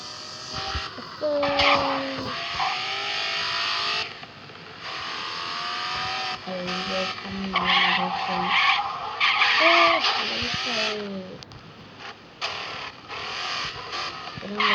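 A car in a video game revs and skids repeatedly, with engine whine rising and falling and tyres squealing in bursts. Someone talks over it throughout.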